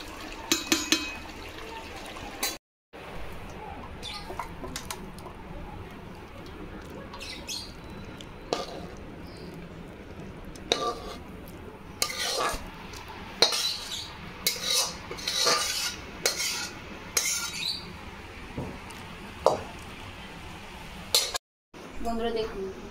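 Cooked pumpkin curry with boiled potato scraped and poured out of a pan, with clinks of a spoon on metal, soft wet slops and bursts of scraping across a quiet kitchen, with two brief dropouts.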